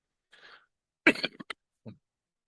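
A soft throat-clearing breath, then a sharp cough burst with a couple of quick follow-up hacks and a final small cough, close and isolated.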